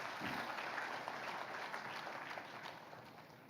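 A distant, faint crowd applauding at a year-end reflection event honoring the top five regional spending performers, a dense steady patter of clapping throughout.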